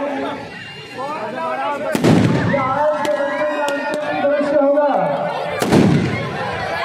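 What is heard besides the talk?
fireworks at a Ramlila performance finale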